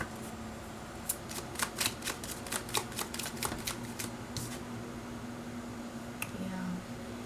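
Tarot cards are shuffled in quick riffling bursts, a rapid run of soft flicking snaps, close and fairly quiet over a low steady hum, with a lone snap near the end.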